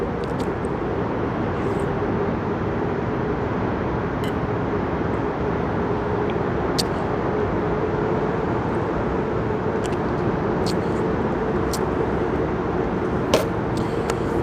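Cars pass on a city road behind a fishing spot, a constant low traffic rumble with faint intermittent clicks, steady and somewhat distant throughout.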